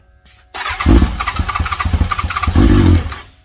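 A go-kart fitted with a swapped Yamaha 440 snowmobile engine cold-starts loudly and close by, then runs a rough, rapidly pulsing idle before revving up again near the end.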